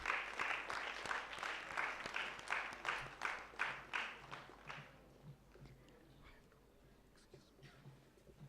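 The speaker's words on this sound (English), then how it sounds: "let us give a huge round of applause for our speakers" Audience clapping for speakers at a conference session, a run of distinct, fairly quiet claps in a regular rhythm that stops partway through, leaving a faint room murmur.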